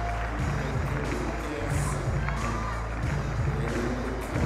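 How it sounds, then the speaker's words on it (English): A crowd at a gymnastics and tumbling final roars and cheers continuously, loud and steady with clapping mixed in, as an athlete builds toward his pass. "Here we go, Ethan, getting the crowd hyped."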